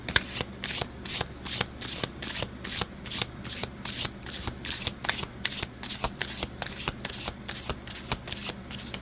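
Tarot cards shuffled by hand in quick, regular riffling bursts, close and fairly quiet, repeating steadily with no speech.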